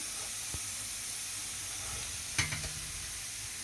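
Fried potatoes sizzle steadily in a pan of oil at home, a continuous close hiss with a brief clatter of added pieces or a utensil near the end.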